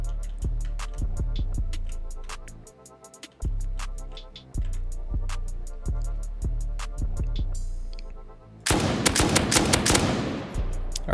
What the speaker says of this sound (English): And he's rocketing the turrets.